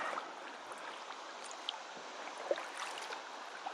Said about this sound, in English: I hear what sounds like some rapids.